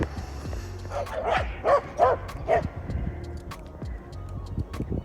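Several dogs bark and yip in quick bursts at an outdoor dog park in Finland, the barks fairly close and moderately loud, then fading into scattered softer yelps over background ambience.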